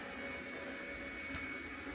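A Roborock robot vacuum cleaner runs steadily at close range, giving a continuous whirring motor hum with a faint higher whine and no talk over it.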